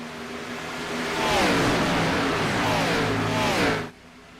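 Race cars roaring past at Atlanta Motor Speedway during a BRRA Cup Series race, engine tone swelling loud and sweeping in pitch as cars pass, then cutting off abruptly.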